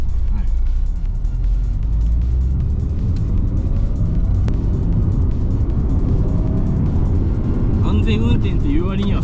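A privately owned car is driven fast on the winding Gunsai mountain course. Its engine and tyre noise roar steadily and up close under almost continuous talk from people inside.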